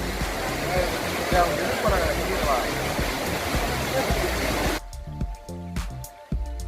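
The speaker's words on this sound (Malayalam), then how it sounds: "ഏകദേശം എൺപതടി ഉയരത്തിൽ നിന്നാണ് ഈ വെള്ളച്ചാട്ടം ഉത്ഭവിക്കുന്നത്" Steady rushing water pours continuously from Kuttalam waterfall in India, dropping about eighty feet, loud and close, then cuts away abruptly near the end to other sounds.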